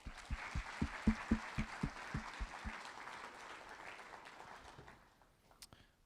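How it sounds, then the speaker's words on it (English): Audience applause at a college speaker-series talk, a scattered, fairly quiet clapping with a few distinct close claps rising early and fading out after a few seconds into near silence. "So let's give them a round of applause."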